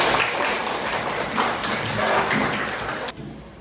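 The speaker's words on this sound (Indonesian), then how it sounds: "Tepuk tangan untuk kita semua." A classroom of students applauds together, a dense, even wash of many hands clapping at once that holds steady at close range before thinning out toward the end.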